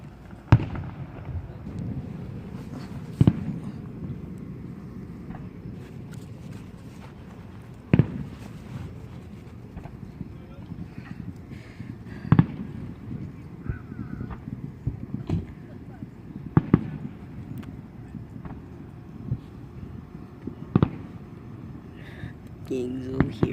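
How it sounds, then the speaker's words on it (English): Fireworks burst outdoors while spectators watch. Sharp booms come every few seconds across the whole stretch, a bit distant, with people talking and exclaiming between them. "can you see the fireworks?"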